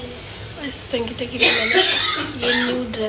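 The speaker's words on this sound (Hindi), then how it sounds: "ये पीछे जिसकी खांसने की आवाज़ आ रही है" A woman coughs several times in the background while another person speaks in Hindi close to the mic during a New Year home vlog.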